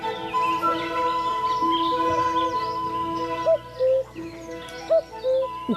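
Birds calling in the Chambord forest in France's Loire Valley, with clear tonal whistles and a few short owl-like hoots and chirps rising over a steady background, moderately near and without speech.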